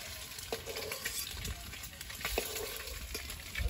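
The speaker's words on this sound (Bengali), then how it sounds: "ডিমটা ভাজা হয়ে গেছে।" An egg fries in a pan in a home kitchen, giving a steady, close sizzling hiss with faint scattered pops and scrapes throughout.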